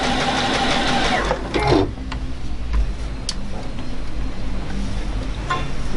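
A Juki DX7 sewing machine stitches fine fabric with a steady, fast mechanical whir, loud and close, pausing briefly partway before running on continuously.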